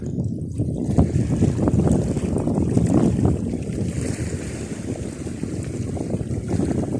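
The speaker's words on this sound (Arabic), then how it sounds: "كاين شي حاجه د الريح اليوم شتو يا خواتي" Strong wind roars and buffets the microphone aboard a fishing boat at sea, with waves and water churning steadily throughout at loud, close range.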